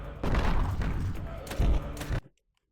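Arm cannon firing in the Sword of the Berserk: Guts' Rage video game: loud, booming, dense blasts that keep going for about two seconds, with a heavier thump near the end, then cut off to silence.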